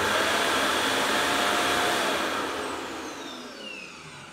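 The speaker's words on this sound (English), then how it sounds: "when it sucks out the contents of the dustbin into the 3-liter dustbin right here, it is pretty loud" Loud, steady rushing suction of an ECOVACS DeeBot T10 Omni robot vacuum dock emptying the robot's dustbin into its 3-liter bin, a constant airy whine that eases slightly toward the end.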